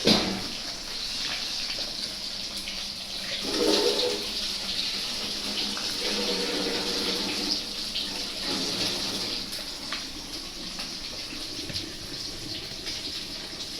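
Hilsa fish curry boils under a lid in a pot, giving a steady, watery hiss and bubbling at moderate loudness that runs unbroken, with a slight swell partway through and no speech.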